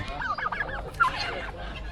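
Turkeys and other fowl at a Kabul market gobble and cluck in quick warbling bursts, close and moderately loud, over a low bustling background.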